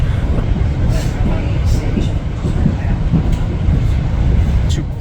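A new Merseyrail class 777 electric train runs steadily, a constant low rumble and hum of wheels on rails with faint rhythmic clicks, close and continuous throughout.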